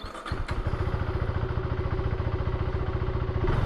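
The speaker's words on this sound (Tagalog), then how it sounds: "Parinig ko lang sa inyo yung engine." KTM 390 Adventure R single-cylinder motorcycle engine idling close up, a steady rapid low-pitched thumping pulse with mechanical clatter that holds an even rhythm throughout.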